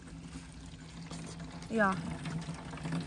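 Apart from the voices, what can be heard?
water pouring from a water tap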